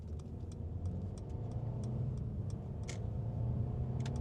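A car accelerates on an Incheon road, a steady mid-pitched engine drone with faint ticking, heard from inside the cabin with no talk.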